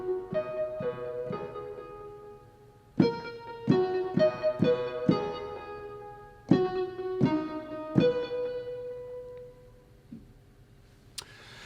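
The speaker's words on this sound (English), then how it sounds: "you can hear it's kind of got that plucking sound" Overdriven keyboard synth pluck from Omnisphere with delay, playing bright repeated plucked notes in short phrases, each hit echoing and trailing off, loud and close with no talking.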